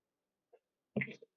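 A single short sneeze, preceded by a faint intake sound, close and fairly quiet, standing alone against silence.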